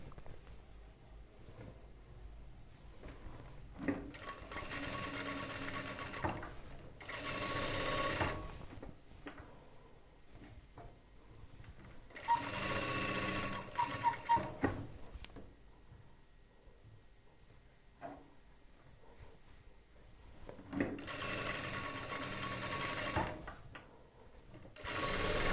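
A sewing machine stitching the lining of a churidar top, running slowly in several separate bursts of steady whirring with quiet pauses between, close up and with no speech.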